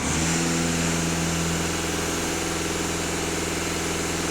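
A VW CC 2.0 TDI diesel engine is held steady at 2500 rpm, a loud, constant drone with an even mechanical hum and no variation, close to the engine with no talk.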